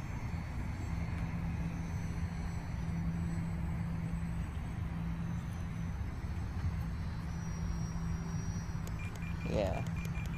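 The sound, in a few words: RC model F4U Corsair airplane flying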